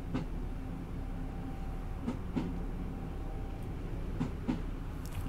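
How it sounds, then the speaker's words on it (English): A Class 150/1 diesel multiple unit coasts on the Gospel Oak to Barking line in Train Simulator 2017, a quiet steady rolling rumble broken by periodic wheel clicks over rail joints. "hopefully the train should be able to just coast down this now"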